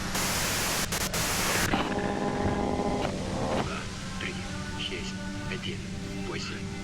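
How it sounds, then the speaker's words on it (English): A loud hiss of white noise fills the opening moments in the video game Disco Elysium, then cuts out, leaving sustained tonal hums and electronic textures with a voice talking over them. "you can do it through the white noise"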